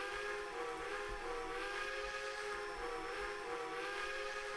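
Steam locomotive whistle in Trainz Simulator 2019, a sustained, steady tonal blast held for several seconds with a faint hiss beneath, heard alone without talk.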